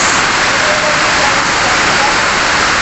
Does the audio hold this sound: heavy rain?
yes